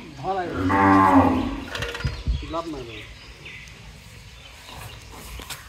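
Cattle moo loudly and close by at a livestock shipping point, one long harmonic call followed by a shorter second moo, with faint background voices and ambient noise.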